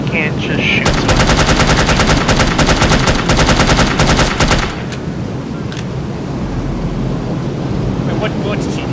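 Gunfire from the video game No One Lives Forever, a loud sustained burst of rapid automatic shots for several seconds that then cuts off, leaving a steady windy rumble with a few faint distant pops.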